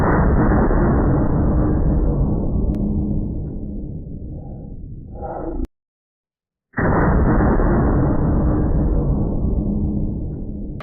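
A 500 Bushwhacker revolver firing a 500 grain round booms heavily twice, each blast followed by a long rumbling decay, loud and close with a short silence between the shots.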